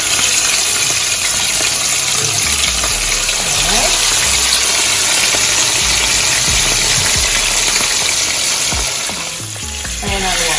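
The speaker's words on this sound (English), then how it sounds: "You have to make them stay and make sure to let them fry right." Escovitch-style fish frying hard in a pot of hot oil for a Jamaican dish, a loud, steady sizzle with crackles and spatters that runs throughout, dipping briefly near the end.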